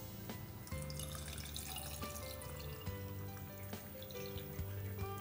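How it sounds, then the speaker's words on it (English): Water pours steadily into a glass jar holding pineapple pieces for infused water, a continuous close trickle over a constant tonal background. "Add water."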